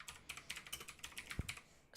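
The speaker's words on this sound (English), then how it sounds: "how fascinating it is to hear typing" Computer keyboard typing, a quick, steady patter of faint, soft key clicks at even pace, alone and without talk.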